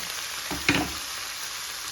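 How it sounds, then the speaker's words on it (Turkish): Beef liver sautés in a covered pot, giving a soft, steady sizzle with one brief louder clatter partway through, heard close with no talk. "Tekrar tenceremin kapağını kapatıp kavurmaya bırakıyorum."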